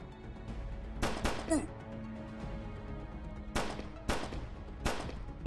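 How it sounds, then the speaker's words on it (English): Rifle firing automatically in a Vice City-style video game, several sharp separate gunshots spread across the stretch, two early and three later, with someone talking between them. "It just automatically shoots when you hover over the dude."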